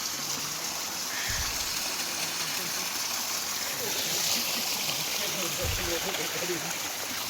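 A mountain stream in an Uttarakhand village runs steadily downhill, a continuous broad rushing and burbling of water, fairly close, with low voices faintly under it.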